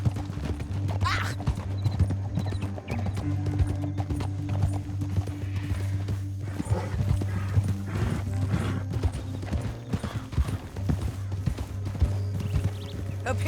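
Horse hooves clip-clopping steadily on a trail in the video game Red Dead Redemption 2, several horses moving together, with a brief whinny and game music and voices around them.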